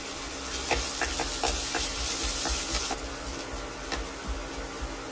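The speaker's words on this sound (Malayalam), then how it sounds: "അതിലേക്ക് ആദ്യമേ ചൂടായ എണ്ണയിലേക്ക് വെളുത്തുള്ളി ഇട്ട് കൊടുക്കാം. ഇഞ്ചിയും കൂടെ ചേർക്കാം." Garlic and ginger sizzling in hot oil in a pan, a steady crackling hiss broken by quick scraping stirs and sharp pops, close and alone.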